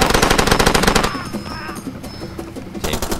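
M249 machine gun fire in the game Far Cry 2: a rapid, loud automatic burst for about a second, then echoing tail and ambient quiet before another short volley near the end.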